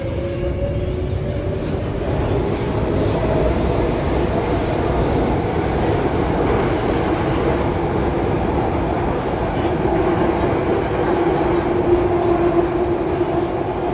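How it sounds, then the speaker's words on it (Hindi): A Delhi metro train rumbles steadily through a station, a continuous low roar with a faint high whine, close and loud throughout. "2 मिनट में आएगी मेट्रो"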